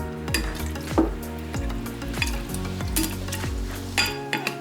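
A refrigerator pickle mixture of cucumbers being stirred, with a series of wet scraping and clinking strokes against the container, roughly one every half second, close and moderately loud, no voices.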